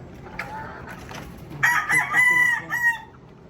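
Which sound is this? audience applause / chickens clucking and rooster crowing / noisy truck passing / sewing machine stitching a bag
chickens clucking and rooster crowing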